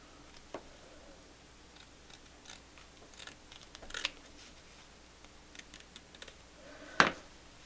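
Quilt fabric for a table runner is cut with scissors or a cutter in a quiet room: faint, scattered snips and small clicks, with a sharper snap near the end.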